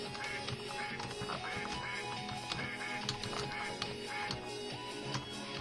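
A cartoonish duck quacks in the platform video game I Wanna Get Cultured, with repeated short quacks over busy game music and effects at moderate loudness.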